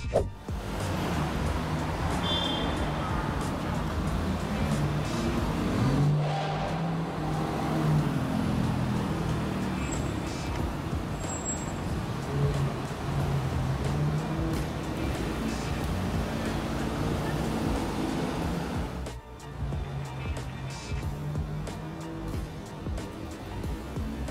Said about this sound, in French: une vidéo dans laquelle nous pouvons voir une voiture de sport rouler sur une route